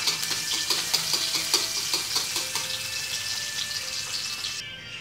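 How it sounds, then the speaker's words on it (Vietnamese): Shallots fry over low heat in hot oil in a pan, a continuous bright sizzle with rhythmic scraping from stirring, the crackle easing slightly near the end. "mỡ nóng, dầu nóng thì ta đổ hành vô, cô phi cho nó thơm"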